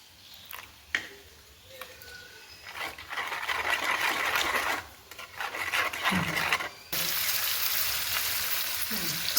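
Mixed vegetables sizzle and crackle in a hot pan, the frying hiss swelling and dropping in stretches with brief pauses and a few soft clinks, close and moderately loud.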